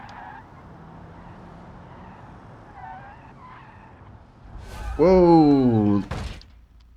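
A car, the Pessima, skids and crashes in BeamNG.drive. Engine drone runs low at first, then a loud rising tire screech swells and ends in an abrupt impact. A voice exclaims during the skid.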